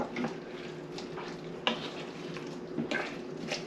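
Roasted vegetables and spinach being stirred in a pan for a ricotta pasta bake, a steady soft scraping and light sizzle with a few sharper utensil knocks, close and alone without talk.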